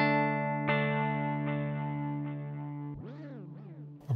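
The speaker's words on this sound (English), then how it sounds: "And you can hear that distortion and the degradation." Sustained electric guitar chord through an EHX Canyon delay pedal, with repeating echoes that warble and degrade in pitch, bending and smearing toward the end.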